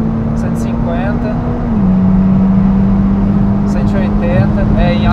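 A Mitsubishi Evo X engine drones loudly at high revs from inside the car, its steady tone dipping slightly as it shifts and then holding level, with a voice speaking over it.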